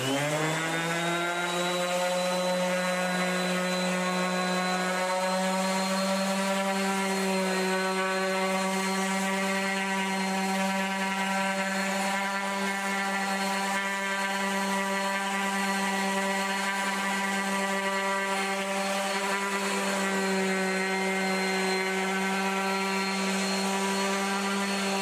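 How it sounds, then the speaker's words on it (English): A Bosch GEX125 random orbit sander runs continuously, a steady loud motor whine with a strong buzzing hum that holds even and close for the whole stretch, shifting only slightly in pitch. "this machine is so small and looks very much like a conventional quarter sheet palm sander"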